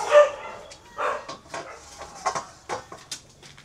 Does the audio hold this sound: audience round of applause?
no